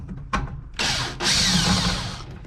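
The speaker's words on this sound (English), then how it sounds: "if we unscrew the bottom screw, then you can get that out of there." A power tool whirs in short bursts as it backs out the bottom screw on a Samsung dryer: a brief zip, then two longer close, loud spins, with no talking.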